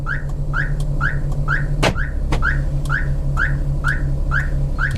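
Rapid repeating electronic beeps, about two per second in an even rhythm, from a car's reverse parking sensor after reverse gear is engaged, over a low idling hum; no talking.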